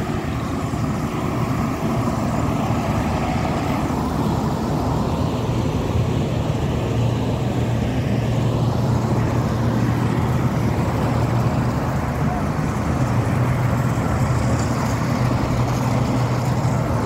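A truck rumbles steadily near rice fields during the harvest, with a loud and continuous engine and road noise that lasts the whole stretch and no talk over it.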